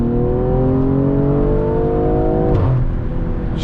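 A tuned BMW M340i holds steady revs while building boost, then launches with a sharp shift in engine tone and pulls away; loud, close and continuous.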